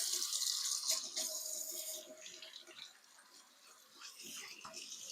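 Water runs from a tap while hands are washed, a steady close hiss that dips midway and then returns, with faint clatter and no talking.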